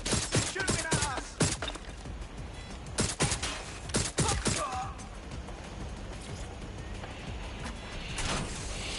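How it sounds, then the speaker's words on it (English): Gunfire in the video game Watch Dogs: Legion comes in rapid bursts of sharp shots, dense at first and again in the middle, then thinning into a quieter background. "They're shooting at us!"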